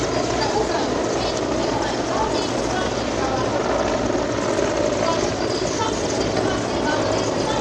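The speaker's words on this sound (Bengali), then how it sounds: "এবার আপনারা দেখতে পাচ্ছেন বাংলাদেশ নৌবাহিনীর পতাকা বহনকারী হেলিকপ্টার" A Bangladesh Navy helicopter carrying a flag flies past during a national parade flypast, a loud continuous rotor and engine roar heard steadily from start to end, with announcer speech mixed in.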